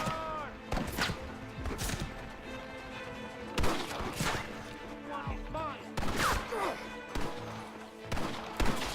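Repeated bursts of Gatling gun fire in the Red Dead Redemption Western video game, sharp cracks spaced through the scene, mixed under music and shouted voices.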